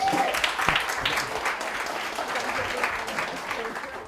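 Audience applause after a presentation on sacred geographies of India and the US, a dense, steady wash of clapping that fills the room and tapers slightly toward the end.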